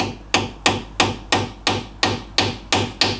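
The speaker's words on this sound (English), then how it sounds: "I've got quite a fine chisel here" A hammer strikes a fine chisel on an MGB Mk1 banjo-type rear axle, ten sharp metallic blows in an even, steady rhythm, close and loud with no talk.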